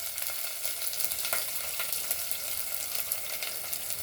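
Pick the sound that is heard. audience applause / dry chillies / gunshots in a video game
dry chillies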